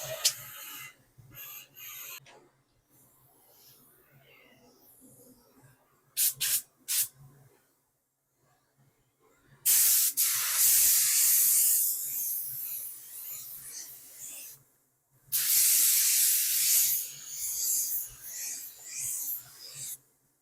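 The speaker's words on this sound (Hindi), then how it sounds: "तो अब मैं तुम्हें स्प्रे करके दिखाऊंगा और इसका फाइनल भी करके दिखाऊंगा कैसा लुक आता है।" Pink chemical solution sprayed onto jeans in bursts, two long loud hissing sprays with shorter spurts between them, close up with quiet gaps and faint handling noise.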